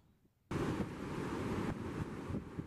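Ocean waves and wind at the St Lucia estuary beach: after a quiet half second, a loud, continuous roar of surf and gusting wind buffets the microphone, swelling slightly in places, with no voices.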